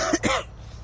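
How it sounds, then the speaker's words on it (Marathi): A person sick with a cold clears their throat and coughs, two harsh close bursts in quick succession at the start, then quiet rural night air with a faint low hum. "खोकला येतोय, सर्दी खोकल्याने जाम झाले"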